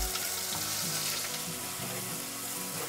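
Ground masala sizzles in hot oil with cumin and curry leaves for a Maharashtrian egg curry, a soft, continuous frying hiss heard close but quiet, with a faint low hum underneath.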